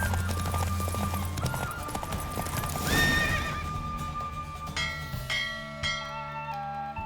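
A horse galloping in a race in The Witcher 3, with steady clip-clopping hooves, a whinny and ringing bell-like tones over a continuous game soundscape.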